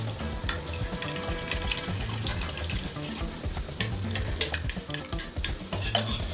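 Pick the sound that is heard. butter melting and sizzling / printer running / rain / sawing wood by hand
butter melting and sizzling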